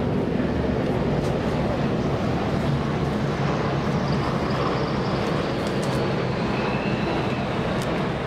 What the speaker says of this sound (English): here come those helicopters, right overhead at this moment